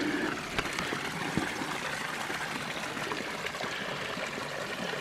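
A forest stream in Bankhead National Forest, Alabama flows and trickles steadily with a constant close wash of water, broken by a few faint clicks and knocks.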